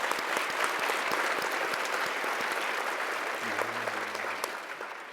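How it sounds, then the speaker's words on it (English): Sustained, steady applause from a large crowd at a community breakfast, a dense wash of clapping filling the room for the whole stretch and easing slightly toward the end. "Let's give them one last round of applause."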